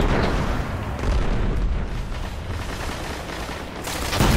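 Rocket explosions in a Destiny Iron Banner match, a dense, loud barrage of booms and blasts rolling continuously with no talk.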